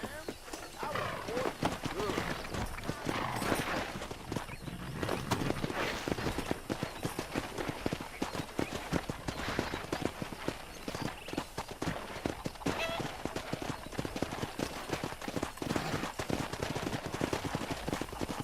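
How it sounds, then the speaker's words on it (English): Horses galloping in the Western video game Red Dead Redemption, a steady rapid clip-clop of hooves throughout, close and continuous over game ambience with voices talking. "Let's see if we can't wrangle some horses."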